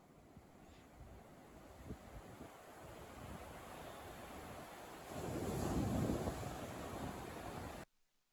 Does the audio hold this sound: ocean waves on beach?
yes